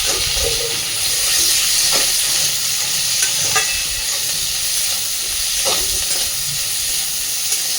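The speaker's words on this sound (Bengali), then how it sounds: "হালকা করে পেঁয়াজটা এবার একটু ভেজে নেব।" Thickly chopped onion with black cumin seeds and slit green chillies fries gently in hot oil, a steady close sizzle and hiss with occasional stirring scrapes.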